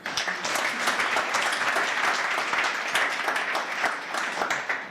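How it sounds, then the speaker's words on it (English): A crowd applauds steadily, dense rapid clapping holding at an even level throughout, with no voices standing out. "Please give another round of applause."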